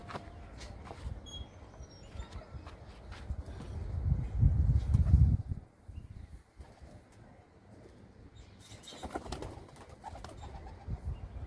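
Pigeons coo softly and repeatedly in a quiet outdoor setting, with a louder burst of cooing and faint rustling midway.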